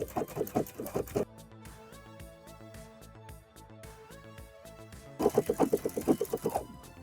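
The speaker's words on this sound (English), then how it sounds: "now I'm going to top stitch those 2 layers of the flap together" A sewing machine top stitches two fabric layers of a cargo pocket flap in two rapid rhythmic bursts, one at the start and one near the end, with a quieter tonal hum filling the pause between.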